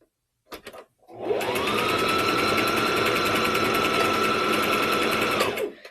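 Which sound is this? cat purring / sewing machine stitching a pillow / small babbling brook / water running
sewing machine stitching a pillow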